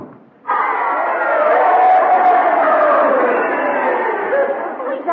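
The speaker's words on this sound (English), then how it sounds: "You heard them cheering, didn't you?" Crowd at a staged schoolyard fight in a radio comedy, a dense continuous roar of many voices cheering and shouting that swells in abruptly and holds steady and loud throughout.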